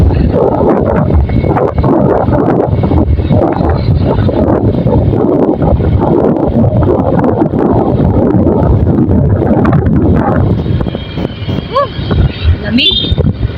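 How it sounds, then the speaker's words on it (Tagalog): Steady, loud wind rumble buffets the microphone throughout, with a low roar underneath and a slight dip near the end. "Lamig. Sarap ng hangin."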